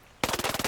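A Vector submachine gun fires in Ghost Recon Breakpoint, a single short, fast automatic burst of about ten evenly spaced, close, sharp shots.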